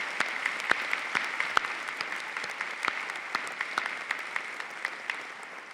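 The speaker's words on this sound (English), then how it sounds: "So let's have a round of applause for Dr. Whitty." Audience applause at an Auburn University fall graduation ceremony, steady clapping from a large hall crowd with scattered sharper nearby claps, sustained throughout without speech.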